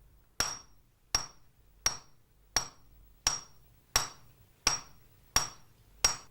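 A swordsmith hammers a plain iron rod down to a point, nine sharp ringing metallic strikes at a steady, unhurried rhythm, each clear and close with a short decay and quiet between blows.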